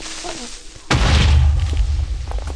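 After a short quiet moment, a sudden loud boom bursts out and rumbles on briefly: a creeper exploding in Minecraft.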